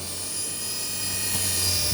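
Small toy helicopter with powerful rotors spinning up close, a steady high-pitched whir and buzz holding at a constant loud level with faint mechanical ticking underneath.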